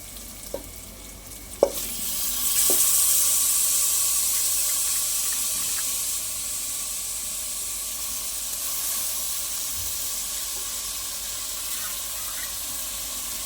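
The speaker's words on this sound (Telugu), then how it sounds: "ఇప్పుడు మనం ఇందులోనే ముందుగా తీసుకున్న రైస్ని కూడా యాడ్ చేసేద్దాం." Rice is tipped into a pan of tomato masala, with a short clatter followed by a steady, moderately loud sizzle that carries on evenly and quiet clinks, and no talking.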